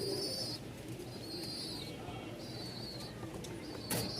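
Pigeons at a bustling market in Mirpur, Dhaka, including Rajshahi Giribaz and fancy breeds, make soft coos and bird calls over steady crowd murmur, with a brief louder rustle near the end.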